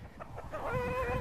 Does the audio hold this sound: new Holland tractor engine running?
no